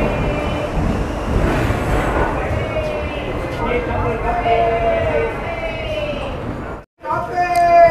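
Thiruvananthapuram Central–Tiruchirappalli Intercity Express pulling into a station, a loud sustained rumble of rolling carriages with rising tonal squeals, close by, ending in a brief drop before a sharp screech.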